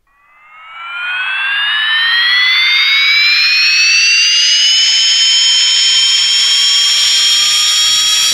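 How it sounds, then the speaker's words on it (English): An AV-8B Harrier jet engine spooling up in the X-Plane 11 flight simulator at Naval Air Station Patuxent River: a loud rising whine with climbing tones that settles into a steady, piercing roar. "starting engine"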